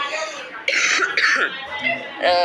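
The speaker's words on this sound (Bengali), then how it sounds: "ডোন্ট মাইন্ড, আমার একটুখানি কাশি আছে।" Several sharp, loud coughs in quick bursts, close to the microphone, with a brief throat-clearing sound between them.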